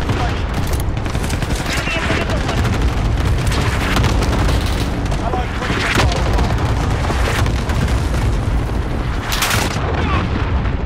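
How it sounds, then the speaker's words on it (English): Cluster strike explosions in Call of Duty Modern Warfare roar as a dense, continuous barrage of loud booms and rattling gunfire, with voices talking over the chaos. "Allied cluster strike inbound"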